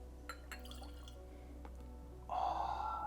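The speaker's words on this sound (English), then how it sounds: "Try and pour this into the 1920s blender's glass to make the absolute most of it." 52-year-old whisky is poured into a 1920s blender's glass. A few faint clinks come first, then a short, quiet, steady pour trickles in near the end.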